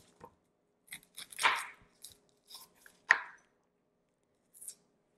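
Knife thinly slicing a red onion on a board, giving a few crisp isolated cuts with gaps between them, close and fairly quiet, with no talk.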